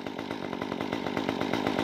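A Stihl MS 194T top handle chainsaw running close by, its engine buzzing steadily with a fast, even pulsing rhythm throughout, loud and alone with no voices.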